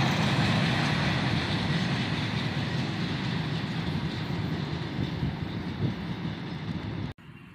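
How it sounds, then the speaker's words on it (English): A CSX train hauling empty continuous welded rail cars rumbles past in a park, steady and loud with a faint clatter, then cuts off abruptly at the end. "And there goes the end of the train."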